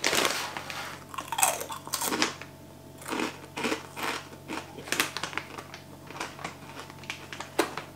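Crisp hummus chips crunched close to the microphone, a series of sharp irregular bites and chews that are moderately loud against a quiet background.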